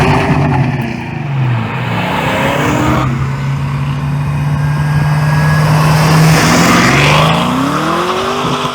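A 2,900-pound Ford Mustang Fox Body with a 302 V8 stroked to 347, making 407 horsepower, accelerates hard. It gives a loud, close engine roar with rising revs and a sustained high-rpm pull, and shifts into another climbing sweep.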